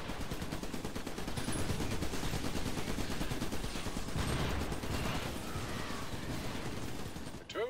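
Dense, continuous rapid gunfire from mechs in the video game Iron Brigade, a steady loud clatter of automatic shots with mechanical whirring throughout.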